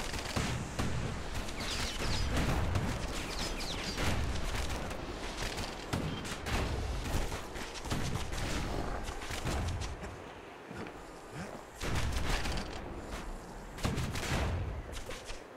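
Ranged weapon fire from a blunderbuss-style gun in the action game Bastion, repeated bursts of loud shots in an irregular rhythm, with a brief lull near the middle before the firing resumes.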